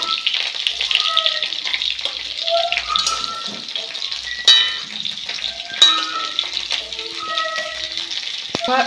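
Pointed gourd frying in a pan sizzles steadily at close range, with sharp clatters from the lid or spatula and faint voices in the background.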